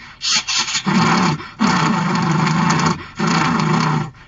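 A performer's voice imitates a grass cutting machine in a school mimicry contest, making loud, buzzing, rasping engine-like bursts in three sustained runs with short breaks between them.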